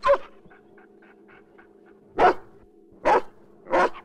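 A big dog in a Russian family adventure film barks four times, sharp and widely spaced, with faint whimpering tones between the barks.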